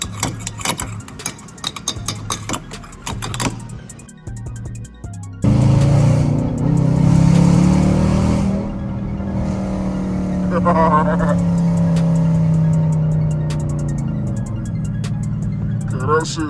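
Dodge Challenger R/T V8 revving hard in Sunday traffic, a loud rising engine roar that swells and sustains after a few seconds of background road noise, heard close with people talking over it.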